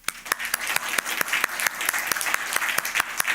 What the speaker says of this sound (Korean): 우리 가정 축복하면서 우리 박수 한번 할까요?